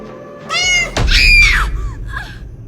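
A kitten flung from a balcony lets out loud, close meows and a shrill screaming yowl, then a thud and fainter trailing cries, all without talking.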